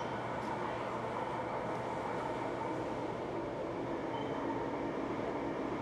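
An LRT Line 1 train pulls into a station platform with a continuous low rumble and rolling hum, steady and moderately loud throughout, with no clear voices.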